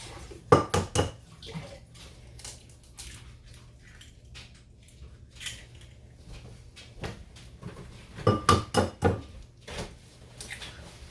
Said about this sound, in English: And you want to crack eggs.